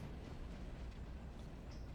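A train rumbles along the track in the railroad video game Railroader, a low, continuous rolling drone with muffled wagon noise, fairly quiet and steady, with no talk over it.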